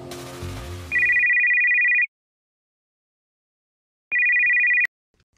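An incoming-call telephone ringtone sounds loud and close in two electronic bursts, the first about a second long and the second a shorter repeat after a pause, with a brief rumble of other sound before it.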